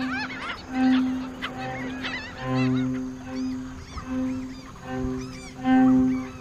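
A colony of black skimmers, with pale-plumaged young birds among the adults, calls on a sandbar in Brazil: repeated nasal, honking yelps overlap at close range with short pauses between bursts.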